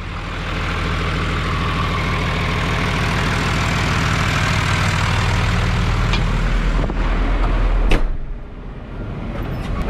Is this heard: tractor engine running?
yes